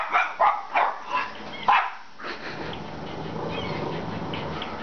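Several quick dog barks from a Wii video game in the first two seconds, moderately loud, followed by a steady low rumbling background hum.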